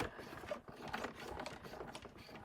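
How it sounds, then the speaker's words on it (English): A die-cut embossing machine rolls a plaid embossing folder through for a card, giving a faint, uneven mechanical grinding and clicking as the folder passes, with no voices. "it's going to make that noise because we're coming off the end of the folder"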